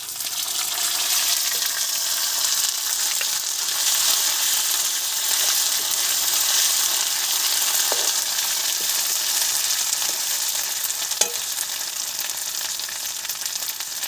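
Snails fry in hot oil in a pan, a loud, continuous close sizzle and hiss that stays steady throughout, with a few faint clicks and no voices.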